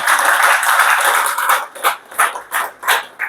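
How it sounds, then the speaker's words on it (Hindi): Loud applause from a seminar audience, sustained and dense at first, then breaking into several separate bursts of clapping toward the end. "इन सब के लिए एक जोरदार ताली होना चाहिए।"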